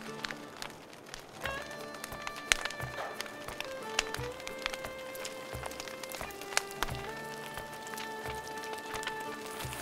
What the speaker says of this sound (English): just as the rain starts to fall